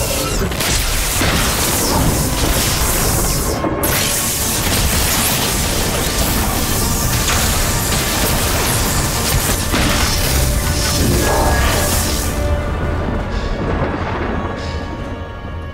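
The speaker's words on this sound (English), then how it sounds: "My God, that lightning." Lightning and thunder effect in a TV show: a loud, continuous rumbling roar with crackling bursts, sustained for a long stretch before easing slightly at the end.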